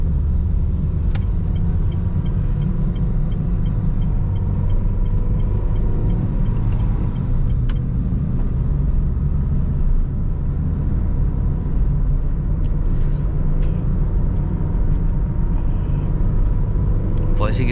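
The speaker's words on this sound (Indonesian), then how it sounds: "Nah, ini meraung masuk ke gigi 2, pas lagi tambah gas" A manual car's engine rumbles steadily as the driver gives it gas and shifts into second gear pulling away from a red light, a loud continuous low drone with faint cabin noise on top.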